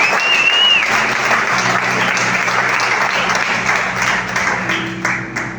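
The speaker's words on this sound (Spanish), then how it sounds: "Si lo crees, aplauda fuerte, por favor." A church congregation applauds loudly and steadily, dense sustained clapping with a brief whistle near the start, tapering slightly at the end.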